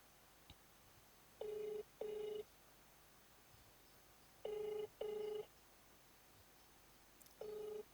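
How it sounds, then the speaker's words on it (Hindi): An outgoing phone call's ringback tone sounds in paired bursts, two rings, a pause, two more, then another starting, steady and clear over a quiet background, unanswered. "ये फोन नहीं उठा रहे हैं, जो भी है ये मनजीत सिंह"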